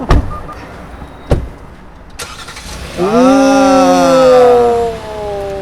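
A Hyundai Palisade starts remotely: a few sharp clicks and thumps are followed by the engine cranking, flaring into a loud rev, and settling toward a smooth idle nearby.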